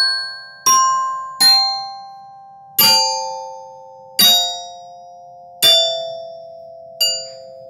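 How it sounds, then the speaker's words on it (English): Six bright metallic glockenspiel notes are struck one at a time with pauses, each ringing out and fading, close and clear. "So this is our Glockenspiel."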